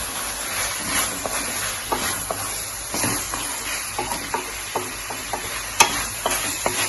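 Fried prawns are stirred into a chilli masala in a pan, giving a steady sizzle with repeated scraping strokes of a spoon throughout, close and fairly loud.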